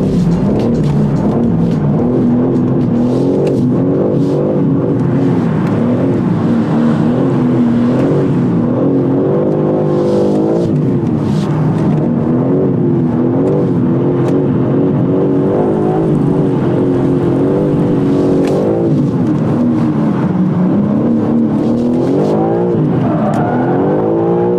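A BMW M3 CS on a test drive roars loudly and steadily, its engine revving up and down through gear changes with surging acceleration and possible tire noise while drifting, close and dominant throughout.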